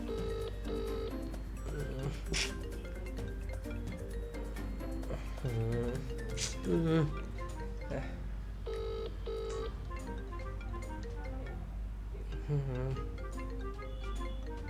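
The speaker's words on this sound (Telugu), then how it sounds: "ఈడేంటి ఇన్నిసార్లు ఫోన్ చేస్తున్నాడు?" A mobile phone rings with an incoming call, a repeating melodic ringtone with short pauses between phrases, playing at moderate loudness over a steady low hum for the whole stretch.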